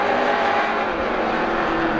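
Race cars roar around Star Speedway during a PASS heat race, a steady, dense engine drone with cars close together in a pack, loud and continuous with no talk over it.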